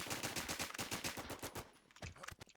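Gunfire in the WarZ video game: a long run of rapid automatic shots followed by a few sparser, irregular shots, moderately loud, with no talk.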